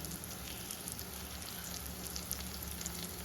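Tomatoes sauté in a pan for a Kerala-style chickpea curry, making a faint, even sizzle with scattered tiny pops and no talking over it.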